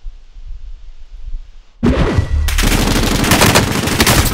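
Gunfire in the Call of Duty Warzone video game: after a quiet stretch, loud close rapid automatic bursts erupt and continue densely to the end, with no speech over them.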